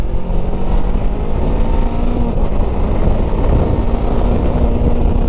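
A VOGE 500DS adventure motorcycle accelerates hard past other traffic, its engine a steady, loud, continuous roar mixed with wind rush throughout.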